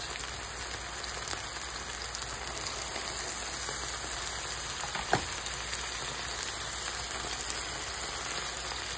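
Beef and garlic fry in a pan with a steady, dense sizzle that holds evenly from start to finish, and one faint clatter comes through near the middle.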